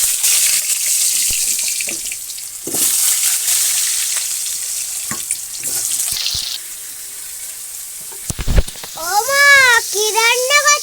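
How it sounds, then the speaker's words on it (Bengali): Potatoes frying in hot oil in a village kitchen, a steady loud sizzle throughout with clinks of stirring, then a brief clatter and a voice talking over the frying near the end. "মধ্যে তেল গরম হয়ে গেছে, আগে আলুটা দিয়ে নিই।"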